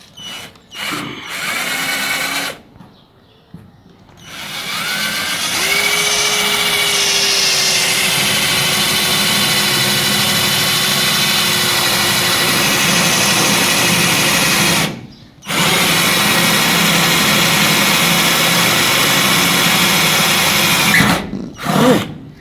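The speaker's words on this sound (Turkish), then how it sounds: "Buralardan şimdi civata deliklerini deleceğiz." A power drill bores bolt holes into a trailer, whining at a steady high pitch for long stretches, with brief pauses between runs; loud and close, no talking.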